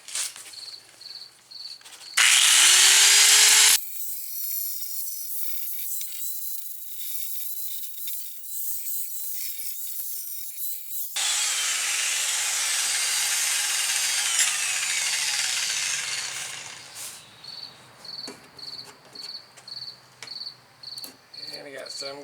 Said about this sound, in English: Just need to grind some of the paint away